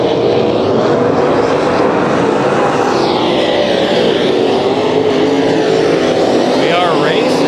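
Race cars in a heat race at Kings Speedway roar past close by in a loud, continuous engine drone, with a rising and falling whine as they pass. A voice can be heard under the engines.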